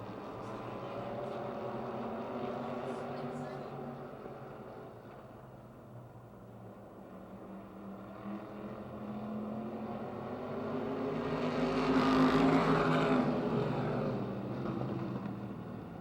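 Open wheel modified race cars circle a speedway during a heat race. A steady engine drone swells as the pack passes nearby and then fades into distant laps, with a race announcer talking over it.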